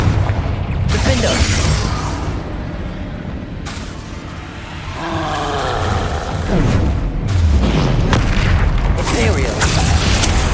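Booming blasts from the Confringo fire spell in the video game Hogwarts Legacy, heavy explosive rumbles layered over constant combat noise and game effects, with voices calling out spell names throughout.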